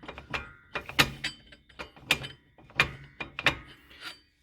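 The brake shoe adjuster wheel on a 2000 Honda CR-V rear drum brake is turned by hand, giving about eight close, scratchy ratcheting clicks in uneven strokes.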